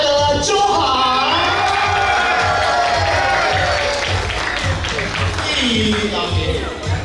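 A reunion crowd at a school event cheers, whoops and claps loudly for a contest winner, a dense, sustained roar of applause with voices shouting throughout.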